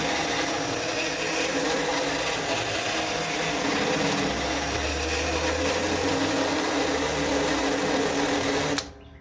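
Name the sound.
carbide burr bit enlarging a hole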